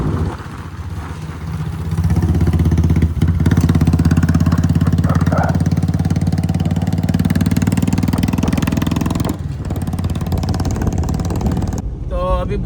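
Royal Enfield Bullet motorcycle engine running steadily at close range, a loud, continuous low thumping drone that holds for most of the stretch before easing near the end, with faint voices in the background.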